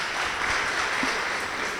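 An outdoor crowd at a ceremony honouring four political heroes of the Ouémé valley gives a brief, even burst of applause, dense and moderately loud.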